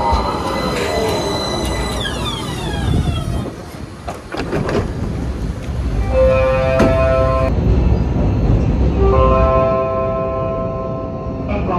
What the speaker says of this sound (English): But we're getting on the tram.